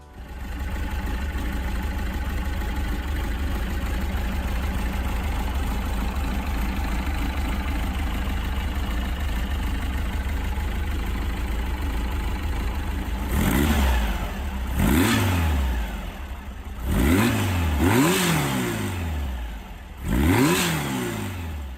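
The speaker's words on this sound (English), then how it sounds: "a 206 horsepower air-cooled engine with 265 Nm of torque" An air-cooled VW Beetle engine, 206 horsepower, idles steadily with a low rumble for a long stretch, then revs up sharply several times in quick bursts.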